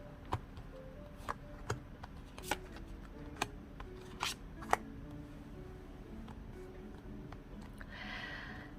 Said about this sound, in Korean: 자, 그러면 카드 오픈을 해보도록 할게요